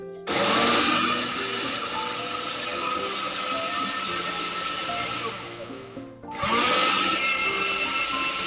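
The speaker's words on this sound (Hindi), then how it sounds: "देखिए यहाँ पर हमने एक चॉपर ले लिया है, इसमें हम अपनी स्ट्रॉबेरीज को डाल के इसको प्यूरी करेंगे।" An electric chopper purees strawberries with a loud, steady motor whir, running for several seconds, briefly cutting out, then spinning back up again.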